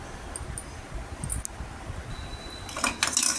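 A utensil scraping and clinking against a pot while thick porridge is stirred, with a few brighter metallic clinks toward the end.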